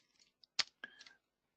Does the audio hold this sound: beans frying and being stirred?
no